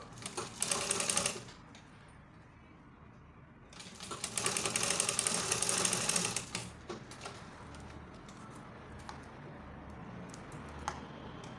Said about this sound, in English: From this part now, just sew it to this part and stop.